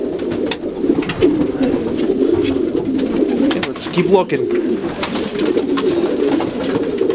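Racing homer pigeons coo softly and continuously inside a loft, with scattered wingbeats and scuffles nearby, while a person speaks briefly over the birds.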